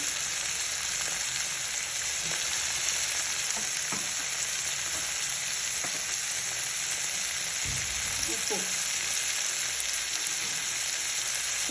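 Raw mango and brinjal curry sizzles and fries steadily in a pan, a continuous close hiss with a few soft stirring knocks and no talking.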